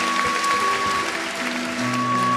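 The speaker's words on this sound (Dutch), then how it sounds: "We gaan afscheid nemen met applaus van Wiemer 4-6-1." Steady applause from an indoor crowd at a young stallion championship show, filling the whole stretch evenly with dense, sustained clapping and no voices.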